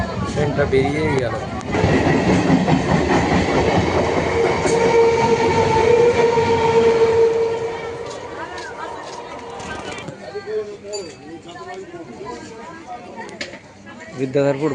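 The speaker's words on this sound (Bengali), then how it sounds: "ট্রেনটা বেরিয়েই গেল" A train passes through a station near a bazaar area on a sunny day, a loud sustained rumble and rolling clatter building quickly and holding for several seconds before easing off, with a horn-like tone and light street ambience after.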